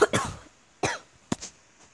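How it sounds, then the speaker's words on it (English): Several harsh, close coughs in quick bursts, separated by short pauses, with a throat-clearing quality and no talking. "I'll be back after coughing."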